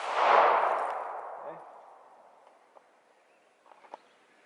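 Single gunshot fired during an outdoor shooting drill: one sharp crack at the start that decays into a long fading outdoor echo, followed by a few faint clicks and light knocks.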